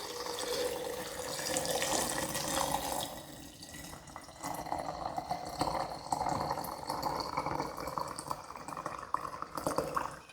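Cooled marinade is poured slowly over quail eggs for a Japanese-style recipe, a close, continuous splashing liquid stream that runs steadily and then turns choppier and more broken.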